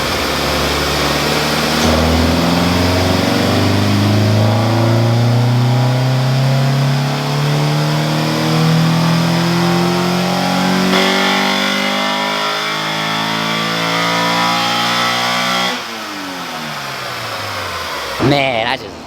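A Honda Integra with a swapped B18C5 VTEC engine revs loudly and climbs steadily in pitch through the gears, with abrupt shifts and a snarling high-rev tone.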